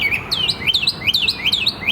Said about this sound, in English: Listen to that pissed-off bird.